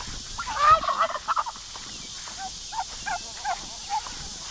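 Several turkeys gobbling nearby in short warbling bursts, some overlapping, against a steady outdoor hiss.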